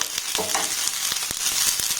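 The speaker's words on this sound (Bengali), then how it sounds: "এবার সমস্ত উপকরণ একটু নাড়াচাড়া করে ভেজে নেব" Steady crackling sizzle of onions, green chillies and spices frying in hot oil, with several sharp scraping clicks from a spatula stirring the pan, close up.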